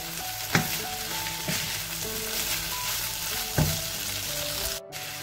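Rice with vegetables and cooked peas being stirred in a hot frying pan, a loud continuous sizzle broken by scraping strokes of the utensil, close and without speech.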